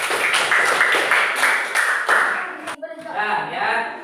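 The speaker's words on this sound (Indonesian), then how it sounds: "Tepuk tangan buat kelompok 2." Students clap for a presenting group in a classroom, brisk and fairly loud, then the clapping stops abruptly and a voice speaks.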